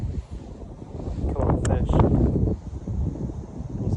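Gusty wind buffets the microphone in a backyard beside a fishing pond, a rumbling roar that swells and eases throughout while someone speaks briefly near the start.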